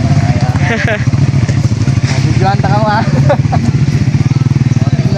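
Motorcycle engine running steadily and loud throughout, heard up close on the road during a ride toward a hanging bridge, with people talking over it.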